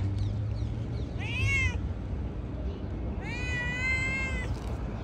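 A cat offered tenderloin meat gives two drawn-out meows, the second longer, close and clear over a steady low background hum.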